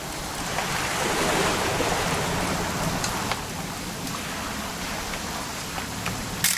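Steady broadband rain in the video game What Remains of Edith Finch, a continuous hiss of falling water with a surf-like wash underneath, fairly even throughout with a few faint splashes and a brief bump at the end.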